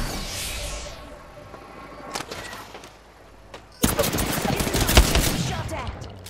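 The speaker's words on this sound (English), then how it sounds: "Shot at. Shooting." Gunfire rattles through an Apex Legends firefight: scattered shots early, then a sudden loud stretch of rapid automatic fire, close and dense, with brief speech nearby.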